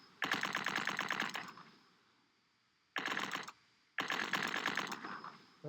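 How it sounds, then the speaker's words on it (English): Rapid burst-fire gunshots in a video game, three separate bursts of fast rattling shots, loud and close, divided by short silent gaps, with no talking. "Got a little burst fire going here."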